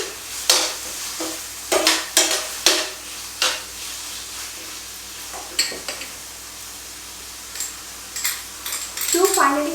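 Ginger garlic paste being sautéed in oil in a pan, with a spoon scraping and clinking against the metal in irregular bursts over a soft, steady sizzle.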